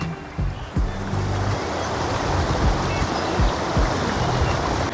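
Water flows steadily in an urban park with a broad, continuous rushing wash, close and fairly loud, with a few soft knocks and faint background sounds over it.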